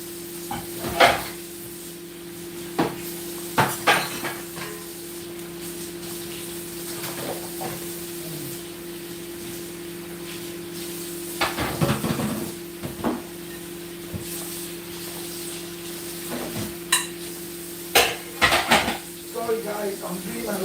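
Pots, pans and dishes clatter intermittently during washing up after cooking palm nut soup, scattered sharp knocks and clinks over a steady background hum, with a voice talking at times.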